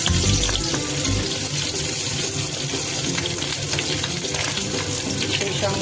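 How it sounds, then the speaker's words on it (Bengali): Previously fried vegetables tipped back into a hot pan for prawn and egg fried rice, crackling in a loud, dense, continuous sizzle with busy spattering throughout. "এবার আমি ভেজে রাখা সবজিগুলোকে আবার দিয়ে দিচ্ছি।"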